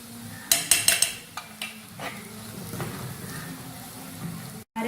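Masala for crab curry being stirred in a pan: a cluster of sharp spoon scrapes and clinks against the metal early on, then softer intermittent scraping and a faint sizzle.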